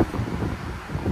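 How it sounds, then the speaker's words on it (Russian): Wind buffeting a microphone on a fourth-floor balcony near the sea, a brief low rumbling gust that stays steady and close throughout, with no voices. "Слегка ветрено."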